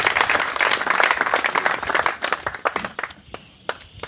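A church congregation applauds the Lord, loud dense clapping that thins out into scattered individual claps toward the end.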